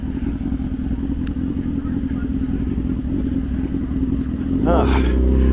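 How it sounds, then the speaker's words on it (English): Motorcycle with no muffler on Bloor Street in Toronto, a loud, rough, steady engine drone close by that swells louder near the end as it passes or revs. "And another dude without a muffler. You can hear him right there."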